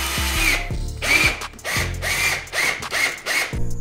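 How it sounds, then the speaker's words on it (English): A power drill drives self-tapping screws into a car side skirt extension, with repeated whirring bursts in quick succession and a ratcheting clutch clicking between them, close and loud, with no talk. "So I'm just gonna go ahead and get some self-tapping screws in there."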